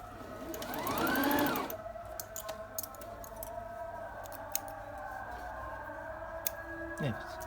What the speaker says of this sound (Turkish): hiç teklemeden, takılmadan makine dikiş, zikzak ne yapacaksan direkt oradan başlatabilirsin